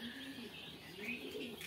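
Japanese quail call at a quail farm in Bakshiganj, Jamalpur. Soft coos and a few light chirps sit faintly over a low steady background hum.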